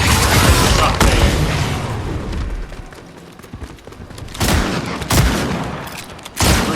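Gatekeeper gunfire in Fortnite, loud booming shots with a heavy rumbling tail, a dense cluster at the start and a few separate blasts near the end.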